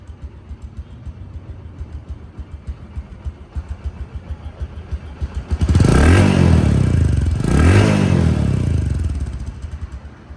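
A second-hand motorcycle idles with a steady, loud putter, then the throttle is blipped twice in quick succession, each rev swelling and dropping back, close and without voices.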